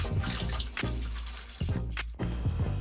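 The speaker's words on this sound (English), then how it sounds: "Once you've swished them around," Clothes being swished by hand in water in a sink, giving steady sloshing and splashing with brief pauses between strokes, close and moderately loud, with no talking.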